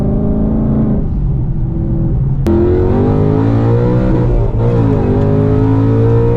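A Whipple-supercharged S650 Mustang GT with a 10-speed revs hard on a dyno, its loud engine note climbing steadily and shifting pitch as the run continues.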